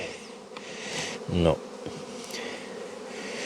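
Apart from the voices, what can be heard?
honeybees buzzing around the hives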